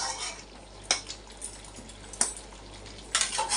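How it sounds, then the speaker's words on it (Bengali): Chicken and potatoes for chicken bhuna fry with a soft sizzle in a pan while a utensil stirs and scrapes, with a few sharp metallic knocks standing out against the steady hiss. "এখন আলু চিকেনটা ভালোভাবে কষানো হবে"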